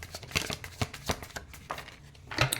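Tarot cards being shuffled by hand in a series of crisp, riffling bursts, with short pauses between them, close and fairly loud, during a card reading.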